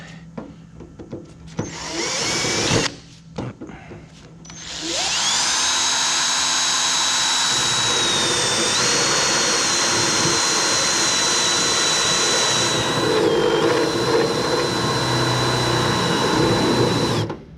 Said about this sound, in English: I'm gonna have to drill another pilot hole